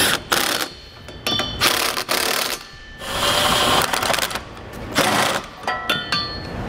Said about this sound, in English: Now we're going to use a 19 millimeter or 3/4 inch socket and start snugging down all of our hardware.